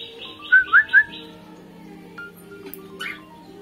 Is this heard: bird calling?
yes